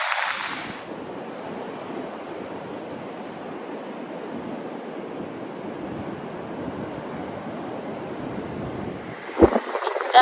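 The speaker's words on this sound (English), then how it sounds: "it's definitely very windy here" Strong wind on Padre Island beach gives a steady hiss of gusts mixed with distant surf for about nine seconds, then a brief knock of handling at the end.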